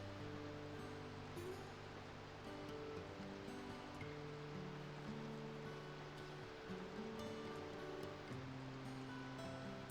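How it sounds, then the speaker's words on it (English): Ambience from Opu, the waterfall village in the video game Baten Kaitos, with a soft, constant wash of falling water beneath sustained, gentle musical tones that shift slowly throughout. "Opu, the waterfall village."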